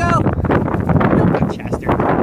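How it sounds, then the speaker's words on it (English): Gusty wind buffeting a microphone outdoors on an afternoon dog walk, a loud continuous low rumble with a voice speaking over it. "is it windy?"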